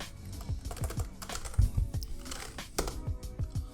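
Rapid keystrokes on a computer keyboard, a steady run of close, crisp clicks with uneven rhythm and no talking.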